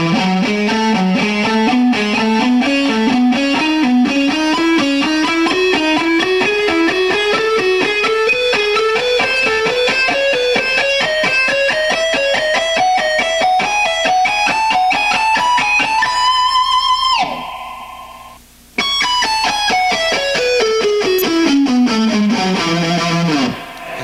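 Heavily distorted electric guitar rips through a fast speed lick, a long climbing run of rapid notes, then a brief break and a descending run, loud and close with no talking.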